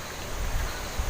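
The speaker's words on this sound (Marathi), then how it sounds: "किती वारा सुटलाय व." Strong wind blows near a lake in a steady rushing roar with low buffeting gusts on the microphone, with no voices.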